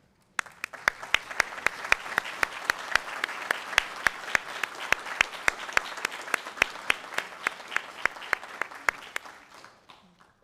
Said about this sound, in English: I'd like to have the PA class of 2022 stand up for the first round of applause this morning